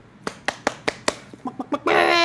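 A rooster gives a run of about ten sharp, rhythmic clucks, close and clear, then breaks into a louder, sustained call at the end.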